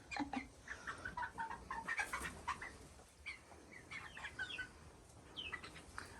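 Young Bielefelder chicks cluck and peep softly in short chirpy bursts, a small group close by and fairly quiet, with no voices.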